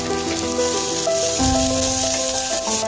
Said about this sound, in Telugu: ఉల్లిగడ్డ, పచ్చిమిర్చి ముక్కలు వేసి అలాగే కొంచెం పుదీనా, 1 స్పూన్ ఉప్పు వేసి ఉల్లిగడ్డలు బ్రౌన్ కలర్ వచ్చే వరకు ఫ్రై చేయాలి